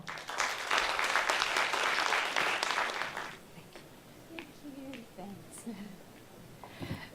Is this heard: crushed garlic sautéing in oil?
no